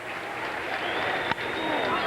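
A baseball video game crowd roars and applauds steadily in a stadium as the home team trails by five, with a brief thump midway through the continuous cheering.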